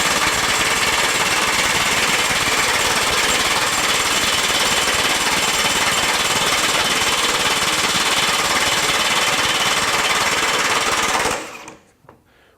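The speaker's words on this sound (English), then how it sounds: "we've now eclipsed 550 foot-pounds in speed 1 or mode 1 of this impact wrench." A Kobalt XTR 24V high-torque impact wrench hammers continuously at full power, a loud, dense, rapid rattling that runs for about eleven seconds and then stops abruptly.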